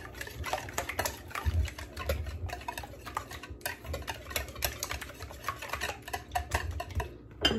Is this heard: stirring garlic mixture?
yes